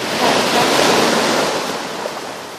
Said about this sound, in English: I'm at the ocean.